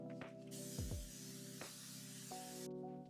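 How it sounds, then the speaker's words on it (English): One long, steady hiss of L'Oreal Infallible 3-in-1 Setting Mist spraying onto a face, close and even, lasting about two seconds and set against a low background hum. "this is the L'Oreal Infallible 3-in-1 Setting Mist"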